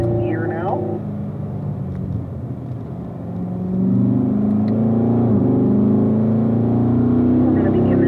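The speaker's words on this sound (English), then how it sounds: "Let's go ahead and get the car up to 5th gear now." A Corvette on a racetrack pulls hard through the gears up to fifth, its engine rumbling from inside the cabin and swelling louder partway through as it accelerates.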